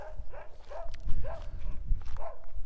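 Several dogs bark in a town street in Wadi Musa, Jordan, with repeated moderately near barks in a loose rhythm over outdoor background noise and no clear talk.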